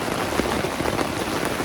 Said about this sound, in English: Started to rain pretty hard now.